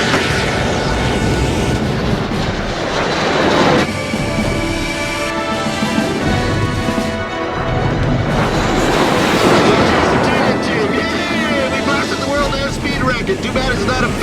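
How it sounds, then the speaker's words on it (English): Avro Arrow jet engine roars with afterburner lit in a 1997 docudrama, a loud, sustained broadband rush with shifting tonal whine, talk over it in places. "Afterburner now."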